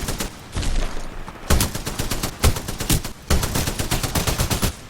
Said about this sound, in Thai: ปืนพวกนี้ไปยิงหุ่นยนต์อย่างเดียวจริง